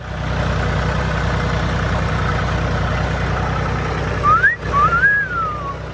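A diesel vehicle idles on a pasture with its engine left running, a steady low rumbling drone that stays constant and fairly close, with a couple of brief whistled notes near the end.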